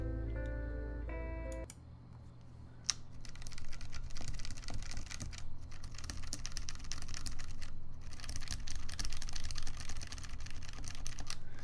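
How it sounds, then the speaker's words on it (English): Rapid, crisp clacking from a Key65 mechanical keyboard with Tiffany Tealios switches and its keycaps removed, typed in close-up bursts with short pauses, after a brief electronic tone at the start. "Sound test without keycaps."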